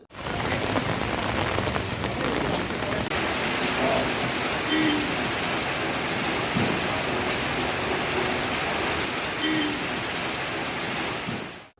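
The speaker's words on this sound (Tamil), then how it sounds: "கல்பாக்கம், மாமல்லபுரம் சுற்றுவட்டார பகுதிகளில் 1 மணி நேரத்திற்கு மேலாக தொடர்ந்து மழை கொட்டியது" Heavy rain pours steadily over Kalpakkam and Mamallapuram on the Tamil Nadu coast, a loud, dense, unbroken hiss of downpour spread evenly from start to finish, with no voices.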